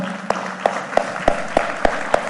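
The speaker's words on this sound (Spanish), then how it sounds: "Un aplauso." Slow, evenly spaced claps ring out about seven times in a steady rhythm, sharp and fairly close, as the congregation at a church Bible teaching session applauds visiting guests.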